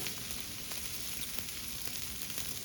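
Butter sizzling on a Blackstone griddle, a steady close crackling hiss with light spatter pops throughout, no voices.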